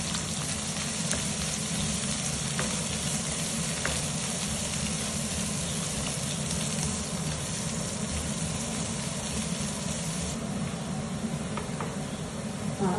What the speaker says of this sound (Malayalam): ചുവന്നുള്ളി, വെളുത്തുള്ളി, കറിവേപ്പില, ചുവന്ന മുളക്, ഉണക്കമുളക് എല്ലാം കൂടി നന്നായിട്ട് ബ്രൗൺ കളർ ആവുന്നവരെ നന്നായിട്ട് വഴറ്റണം